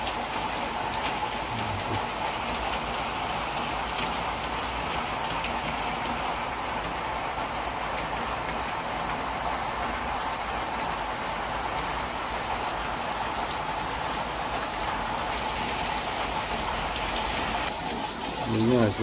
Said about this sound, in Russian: но у нас дождь идет